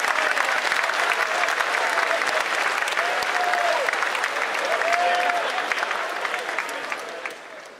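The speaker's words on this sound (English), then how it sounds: "Yeah, you can clap." Audience applause fills Alumni Hall at the Naval Academy, a steady broadband clapping from a large crowd of midshipmen that holds evenly and then tapers off near the end, with a few faint voices mixed in.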